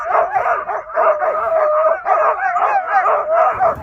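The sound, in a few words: excited sled dogs barking and howling at husky farm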